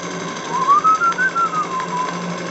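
A steam-driven Petit Cheval donkey pump runs under steam and load, producing a steady rhythmic chugging pulse with a thin whistling tone that rises and falls, loud and close.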